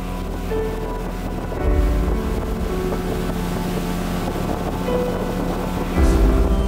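A motorboat powered by a 15 hp outboard engine runs steadily, a loud continuous motor drone with water and wind noise, swelling slightly louder twice.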